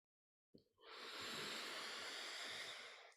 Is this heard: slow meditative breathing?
yes